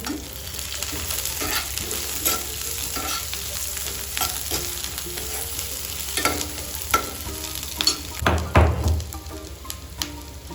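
Curry leaves frying in hot oil for a radish fry, a loud continuous sizzle with bursts of crackling and spatula stirring, swelling into a strong crackle toward the end.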